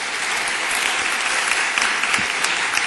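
Audience at a Doha Debates session with George Galloway applauding, a loud even wash of many hands clapping that holds steady throughout with a few sharper individual claps standing out.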